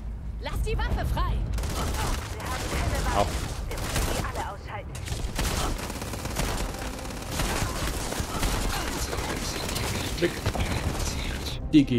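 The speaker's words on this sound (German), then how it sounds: "wir probieren jetzt mal ein paar andere Waffen aus" Gunfire from various weapons being tried out in the video game Starfield: dense, rapid bursts of shots and booms that run almost continuously, with a voice talking over them.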